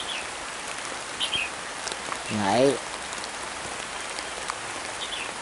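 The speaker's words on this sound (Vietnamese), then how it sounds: "Mưa quá." Heavy rain pours steadily during a storm, a dense continuous hiss of drops on surfaces, with a brief spoken word and a short rising call partway through.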